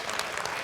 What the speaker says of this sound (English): just let Mark's friends clap for a moment there